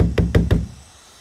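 Three sharp knocks in quick succession on the door of a broken-down tour bus, loud and close, then fading to quiet.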